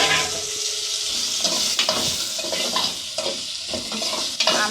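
Mango pieces with salt stirred and tossed in a pan, a dense close sizzle with scraping strokes and a few clinks, loud and continuous, with no talking.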